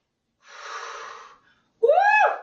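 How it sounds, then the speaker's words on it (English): Two loud, close breaths taken one after the other: a long, rushing inhale, then a voiced, sighing exhale. Taken during a rowing exercise class. "Big deep breaths."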